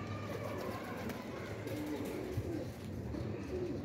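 Soft, low coos of sick pigeons sound among a steady background of outdoor noise, with faint bird calls and no clear talking.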